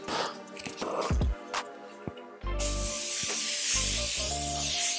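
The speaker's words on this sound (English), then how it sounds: "I'm going to set my face with my Morphe Continuous Mist." Morphe Continuous Mist setting spray misted onto a face: after some brief handling noises, a loud, sustained hissing spray starts midway and keeps going for a couple of seconds, close to the microphone.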